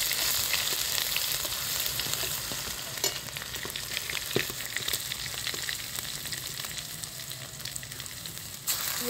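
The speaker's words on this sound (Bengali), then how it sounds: "এইবারে রসুন বাটাটা দিয়ে দিচ্ছি।" Garlic paste sizzles and fries steadily in hot oil with whole cardamom and cumin for gandharaj chicken, a continuous close crackling hiss with occasional sharper pops and stirring, and no voices.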